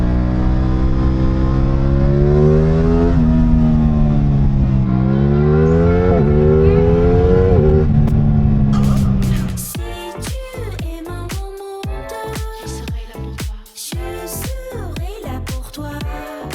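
An Aprilia RS660 Factory motorcycle is ridden with its engine loud and close, rising and falling through the gears for about nine seconds, then switching to a choppier, shifting drone with no voices.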